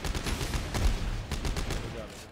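Rapid gunfire from the sci-fi horror shooter Dead Space 3 fills a dense, continuous barrage of bursts, with game effects and some voice chatter mixed in.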